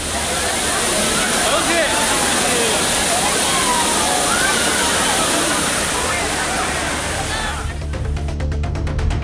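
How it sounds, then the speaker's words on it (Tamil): Thiruparappu waterfall in Kanyakumari district pours across its whole face, a loud, dense rushing roar with splashing that holds steady, then drops away abruptly near the end. "அருவியின் அனைத்து பகுதிகளிலும் தண்ணீர் கொட்டுவதால்"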